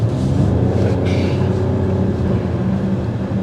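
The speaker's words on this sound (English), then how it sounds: "That exhaust is just crazy." Mercedes-AMG GLE 53 Coupe exhaust gives a steady, deep rumble that stays loud and even from start to finish, with no voices over it.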